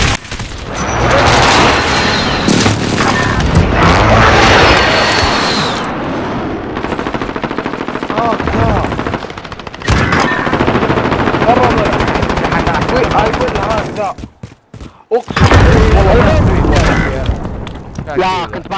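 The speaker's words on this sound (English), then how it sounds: "Allied precision airstrike" Loud, dense bursts of automatic gunfire and booming explosions from a precision airstrike in the game Call of Duty: Modern Warfare, nearly continuous with brief lulls, as someone talks over the action.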